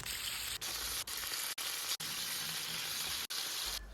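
Steady loud sizzling of chicken rolls with mushrooms frying in hot oil in a pan, a continuous crackling hiss with brief interruptions.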